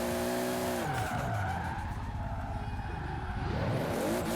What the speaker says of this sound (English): As you can see, it drifts just fine.